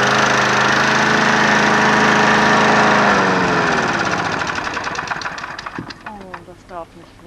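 A lawn mower engine runs loudly and steadily, then sputters and slows into uneven chugging as it dies down, with people talking over it.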